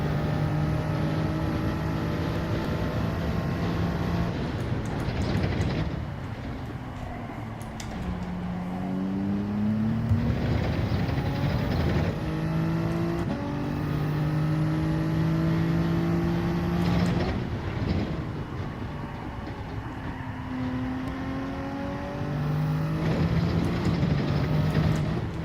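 A race car in Gran Turismo 7 laps the Red Bull Ring in traffic, its engine whining upward through the gears in repeated rising sweeps, with sharp shifts and lifts between them, steady and close throughout.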